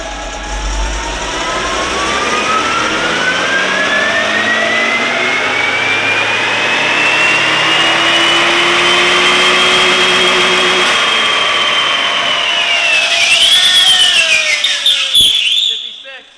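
An imported JDM car engine revs hard, its pitch sweeping upward across the run and holding loud, then dropping off sharply near the end. Voices are audible around the engine.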